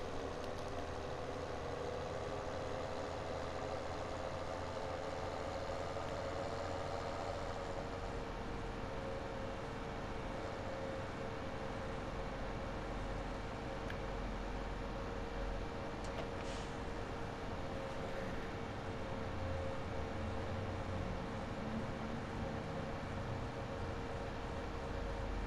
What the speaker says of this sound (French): Un joli tracteur en tout cas.